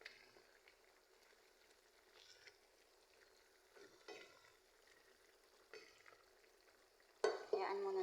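A creamy shrimp sauce with plenty of corn is stirred in a pan, giving a faint, quiet bubbling with soft scraping strokes and a louder clatter of the spoon near the end.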